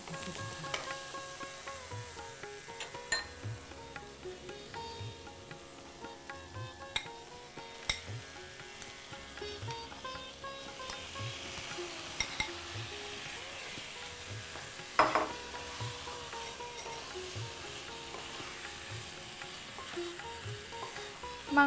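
Whole tomatoes sizzling in a frying pan while being stirred for kaju chicken, a faint steady fry with soft rhythmic scrapes of the spoon and an occasional louder clack.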